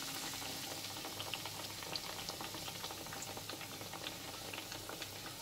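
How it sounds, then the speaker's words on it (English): Potato slices for pakora sizzling in hot oil, a steady dense crackle and bubbling that holds at an even level throughout with faint pops, no voices. "We'll repeat the same with other potato slices also. We'll put them into the hot oil."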